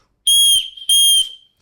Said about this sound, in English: So yeah, really loud whistle